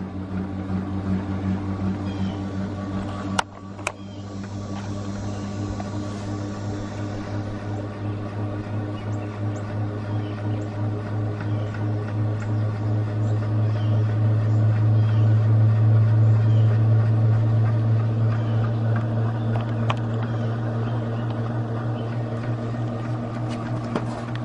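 Homemade magnetic generator spinning with a steady, close mechanical drone and whir that swells gradually louder as it gains speed, with no talk.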